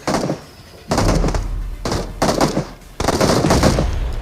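Bursts of automatic gunfire in the mobile battle-royale game PUBG Mobile, three to four rapid volleys separated by short pauses, loud and close with no talk.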